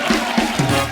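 A studio audience on a comedy talk show claps and cheers in loud, close bursts, with several rhythmic swells of crowd noise across one second.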